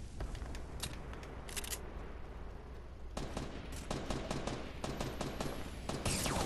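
Video game gunfire: scattered sharp shots and short bursts over a low background rumble, some clustered in quick runs, moderately loud with no speech.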